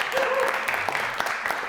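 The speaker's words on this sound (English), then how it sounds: "One more round of applause for Simba." Audience at a spoken word poetry event applauding a performer, a brief, dense burst of clapping at close range with some voices mixed in.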